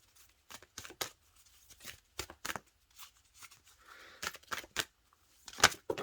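Tarot cards shuffled and pulled from the deck, heard as a run of short, dry riffling and slapping bursts at close range with gaps between them, ending in a sharper snap, with no talking.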